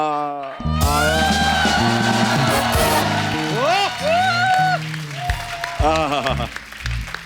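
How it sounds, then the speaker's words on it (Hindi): Applause and crowd cheering from a TV comedy show studio audience rise under loud music with a singing voice, sustained for several seconds after a short quiet opening. "एक बार जोरदार तालियां हो जाए"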